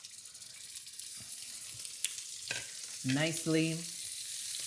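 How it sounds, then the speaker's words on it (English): Scallops sear in hot oil in a pan, giving a steady close sizzle with a few clinks and handling noises, while a person speaks briefly over it. "So we're just going to sear our scallops"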